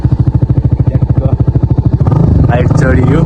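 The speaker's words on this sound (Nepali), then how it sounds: "बाइक चढियो" A motorcycle engine runs close by with a steady pulsing throb, then the rumble grows rougher and louder as the bike pulls away on a ride near Pokhara; a voice speaks near the end.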